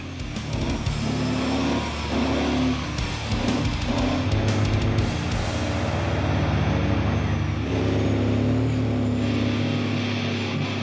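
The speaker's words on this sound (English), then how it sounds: "Up here we got our front brakes, so we will hold them down to do a burnout." A custom big rig hot rod truck does a burnout with its front brakes held, its engine roaring loud and close with sustained rumbling, revving surges and hissing bursts throughout.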